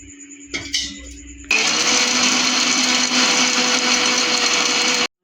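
An electric blender grinding spice masala with water for a mushroom masala dish: a few clinks first, then a sudden loud, steady high-speed whirring that runs for several seconds and stops abruptly.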